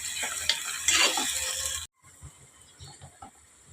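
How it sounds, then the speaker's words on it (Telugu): Onions sizzle loudly in a pan for a fish curry, with a bright hiss and stirring scrapes that cut off abruptly partway through, leaving quieter clinks and rustling. "ఉల్లిపాయలు బాగా ఎగిపోయినాయి కదండి"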